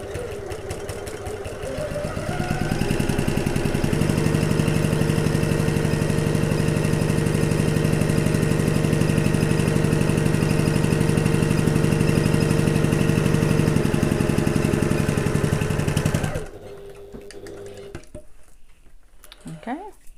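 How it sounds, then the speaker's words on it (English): A sewing machine stitches a second line along a getaway bag, running in one continuous, even mechanical whir for about fourteen seconds before stopping, with softer room noise after. "So I'm just going to sew that second line of stitching."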